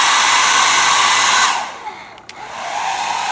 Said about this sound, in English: turn on this, the cheapest hair dryer I could get on Amazon